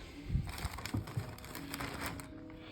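Soft, dry crumbling and crunching at close range, with irregular small crackles as brittle old foam from a Celestion 300 speaker breaks apart, faint and with no voices.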